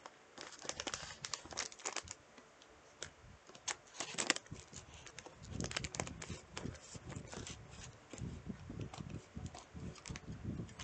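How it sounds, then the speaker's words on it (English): Scissors cut open a plastic bag of spicy beef pretzels, giving soft, uneven crinkling and snipping that rustles on and off at low volume. "I'm gonna need to use some scissors."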